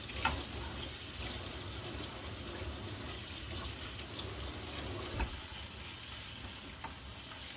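Running tap water over a kitchen knife in a sink, a soft continuous splashing rush with a few faint clinks, fairly quiet and without talk.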